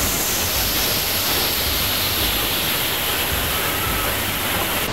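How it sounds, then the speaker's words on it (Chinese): The Leiyin waterfall, a tiered fall pouring into a small pool on the Meishan Zhukeng creek trail, makes a dense, even roar of rushing water that stays constant and loud throughout, with no voices. "龙宫瀑布的对面又有瀑布了啊，那是雷音瀑布啦"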